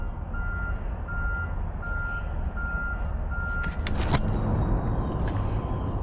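A truck maneuvers while unloading in Texas, its reversing alarm beeping steadily in evenly spaced tones over a low engine rumble, followed by a brief hiss and clatter and louder engine noise.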